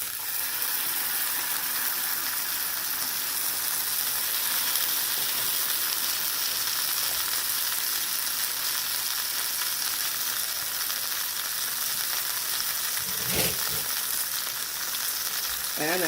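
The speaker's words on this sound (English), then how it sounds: "So let us get down to the cooking of the steaks." Sirloin steaks fry in a pan with a dense, steady hiss of sizzling that runs unbroken and fairly quiet, joined by a brief clatter or shift in the pan near the end.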